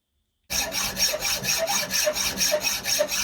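A belt grinder cuts bevels into the steel of an old bench vice, with a harsh, rhythmic abrasive rasp that starts abruptly and pulses steadily, loud and close with no talk.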